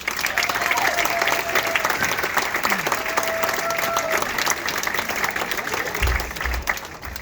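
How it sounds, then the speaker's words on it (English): Comedy club audience applauding and cheering as the next comedian takes the stage, dense steady clapping filling the room throughout, with a brief low thump near the end. "Please give a big round of applause to Corey Hunter"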